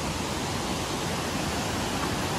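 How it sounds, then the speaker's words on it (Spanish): Small cascades and mini waterfalls in Bosnia pour continuously, a steady broadband rush of falling water heard close and alone. "Mirad qué bonito todo el conjunto de mini cascaditas y de caídas que tiene el agua."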